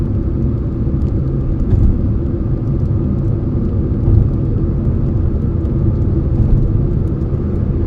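A car cruises at night along the Yamuna Expressway, giving a steady loud low road and engine rumble with tyre noise that holds without a break and has only slight swells.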